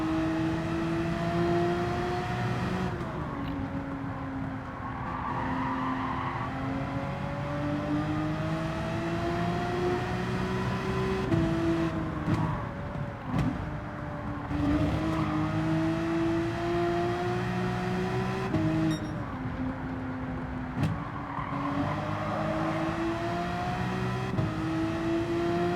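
Race car engine in Gran Turismo 7 during a weekly challenge race, a steady droning roar with rising and falling revs through gear shifts, continuous and loud with no talking.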